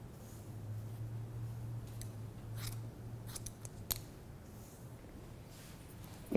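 Scissors trim thick African American textured hair in a precision haircut, making a quiet, close run of rapid snips with a few crisp cuts standing out, and no talking.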